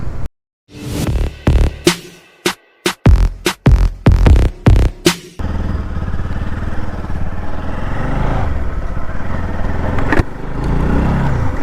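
Close by, a Honda NS motorcycle with a bent exhaust pipe fires off a series of sharp, punchy blips and throttle pops, then settles into a steady, throbbing run, loud and unaccompanied by speech.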